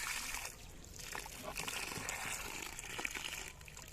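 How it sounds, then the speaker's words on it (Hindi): A full bucket of water is poured slowly onto newly planted fruit saplings in a village garden, a faint steady trickle and splash into soil lasting several seconds. "पूरी बाल्टी पानी की डालें,"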